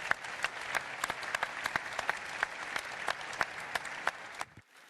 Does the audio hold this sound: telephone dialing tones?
no